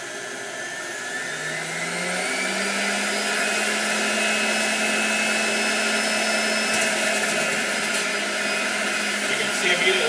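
A Breville Ikon juice fountain runs on high speed while juicing beets and carrots, its motor whining loud and steady, rising slightly as the hard vegetables feed in, with faint clicks near the end.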